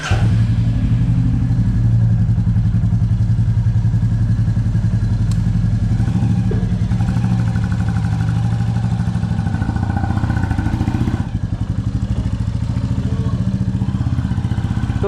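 Royal Enfield Classic 350 motorcycle, said to have a fault, wheeled out and then idling with its steady low thumping single-cylinder putter, close and continuous throughout with a few clunks.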